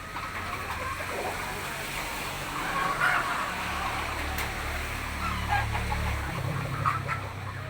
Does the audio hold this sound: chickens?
yes